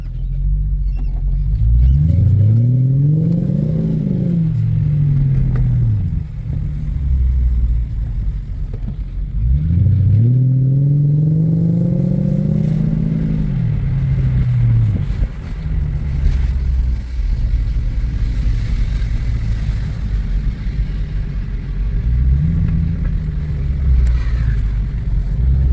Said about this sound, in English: This is so loud because there is no, of course, muffler in the back.